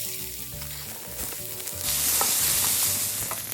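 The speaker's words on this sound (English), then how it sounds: "Once they start popping and cracking, we are going to bring in our onions." Onions dropped into hot oil with mustard seeds sizzle and fry loudly, a bright hiss that swells and keeps crackling close by, no voices.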